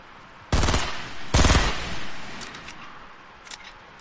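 Hand cannon fire in the Fortnite video game: two loud, heavy gunshot blasts about a second apart, each with a long booming tail, followed by faint clicks and quieter game sounds.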